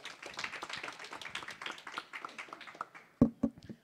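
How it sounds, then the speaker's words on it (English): A small audience at a pitch competition claps for a few seconds, a scattered patter of hands that thins out into a few louder final claps. "How about we give everybody a round of applause for some incredible work today?"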